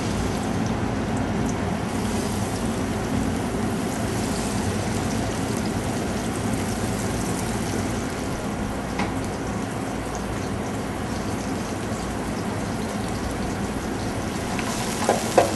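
Diced onion and sliced garlic fry in hot oil in a pan during risotto preparation, a steady soft sizzle with occasional light clinks near the end, close and moderate in level, without speech.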